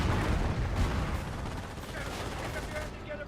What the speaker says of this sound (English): Another Calliope Rocket Barrage.